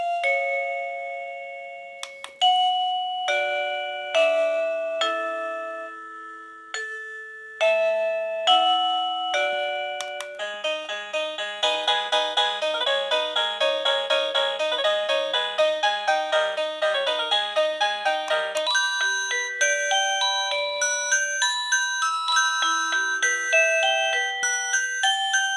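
A KooPower wireless doorbell chime cycles through its melodies one after another, clear bright electronic tones in short tune phrases with brief pauses, then longer busier tinkling sequences, close and loud with no talking.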